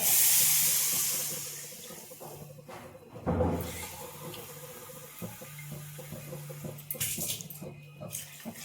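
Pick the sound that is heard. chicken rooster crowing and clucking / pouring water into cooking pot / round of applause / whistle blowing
pouring water into cooking pot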